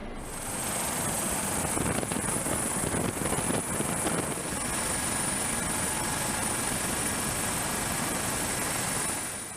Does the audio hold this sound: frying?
no